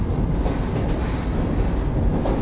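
Vande Bharat express train, an 8-coach set, running past an elevated halt station on a curved track and picking up speed, with loud, steady rumbling rail noise and wheel clatter close by.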